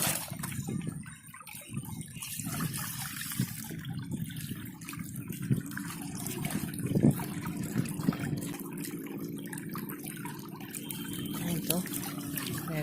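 Water trickles and splashes steadily into a fish trap outdoors, a continuous close liquid sound with faint background noise.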